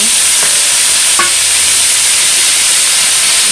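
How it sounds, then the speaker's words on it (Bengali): Bottle gourd stems and green banana fry in oil left from frying fish, producing a loud, steady hissing sizzle close by, with a couple of faint clinks early on and no talking. "মাছ ভাজার তেলের মধ্যে লাউ ডাঁটা আর কলাটা ভেজে নেব"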